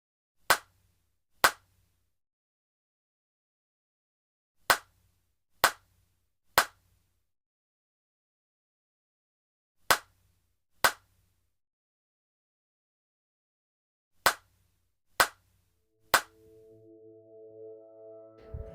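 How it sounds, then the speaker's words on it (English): Ten sharp hand claps ring out alone in small groups of two and three separated by silence, with a faint tonal sound creeping in near the end. "You can clap syllables."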